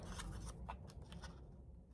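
Scissors snip through material in a few quick, quiet cuts, close by, with no voices alongside.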